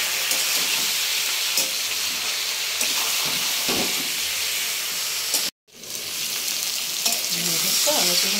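Chicken curry pieces fry loudly in a pan, a steady close sizzle broken by repeated scraping stirs, with a brief cut to silence partway through before the hiss resumes.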